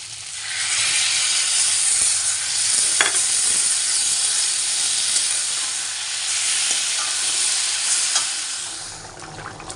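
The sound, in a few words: potatoes frying with spices in a pan for egg curry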